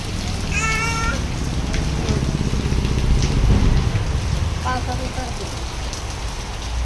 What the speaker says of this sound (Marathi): कसा पाऊस आलाय.